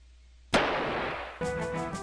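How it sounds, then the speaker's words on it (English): Sharpshooters fire muskets in Civil War Generals 2, with a sudden loud gunshot crack and a rough fading rumble, then a second burst of shots with a ringing tail. No voices are heard. "Our sharpshooters can take a shot at these guys."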